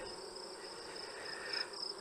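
Honey bees hum steadily at a hive during a September honey pull as boxes are cleared of the last bees, a continuous close insect drone with a thin high whine running throughout.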